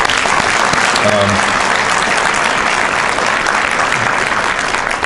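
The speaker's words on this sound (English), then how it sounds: "So let's give her a round of applause, all right?" Audience applause fills the room at a 2018 Days of Remembrance ceremony, a thick, continuous roar of clapping at a steady level, with a brief voice sounding faintly underneath near the start.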